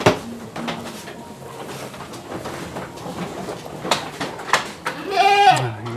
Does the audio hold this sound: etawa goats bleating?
yes